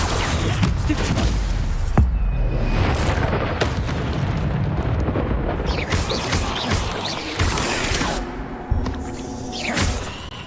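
Stupefy spell effects in the video game Hogwarts Legacy, cast during a fight with spiders: heavy booming impacts and whooshing bursts hit repeatedly, loud and close, with smaller crashes between the larger blasts.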